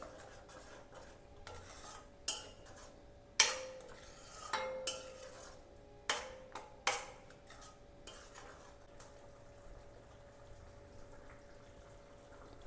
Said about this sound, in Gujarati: ટામેટાની ગ્રેવી એડ કરી દઈશું। તેને પણ આપણે મિક્સ કરી લઈશું।